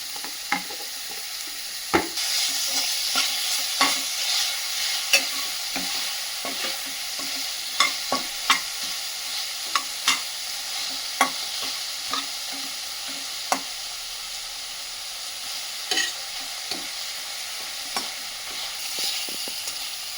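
Sliced onions frying in oil in a pan with salt added, a steady soft sizzle running throughout, broken by frequent scraping and tapping of a spoon stirring against the pan, with no talk.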